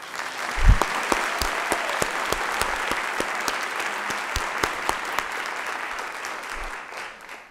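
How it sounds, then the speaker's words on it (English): Audience applause at a college fall opening meeting, a steady wash of many hands clapping with sharp individual claps standing out, sustained for several seconds before tapering off. "I think Margaret deserves a round of applause"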